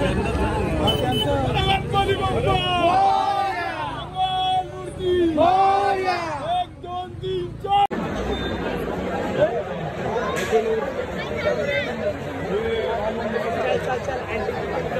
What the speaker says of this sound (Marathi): लय गर्दी आहे, लय गर्दी।